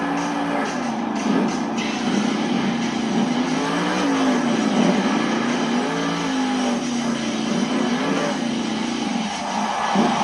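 At a Monster Jam arena show in Wichita, a monster truck's engine roars and wavers in pitch as it pulls a tall wheelie, loud and sustained over a crowded, echoing arena for about ten seconds.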